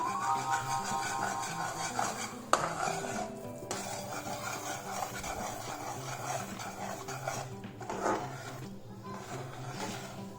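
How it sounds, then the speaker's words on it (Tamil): Semolina being stirred little by little into melted sugar in a pan while making rava ladoo, a steady scraping and rasping of the spoon against the pan running continuously at close range, with no talk. "இப்போ நம்ம ரவையை கொஞ்சம் கொஞ்சமாக போட்டு இதில் கிளறலாம்."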